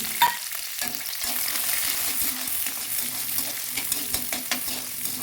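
Big onions and small shallots sauté in a pan with ginger and garlic for an egg kulambu. A bright, steady sizzle runs throughout, with brief stirring scrapes near the start.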